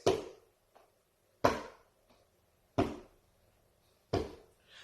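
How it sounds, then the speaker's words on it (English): Couch cushion drummed by hand as a low ostinato, four dull soft thumps evenly spaced with faint lighter taps between, close and quiet. "I might use this couch for my low this time."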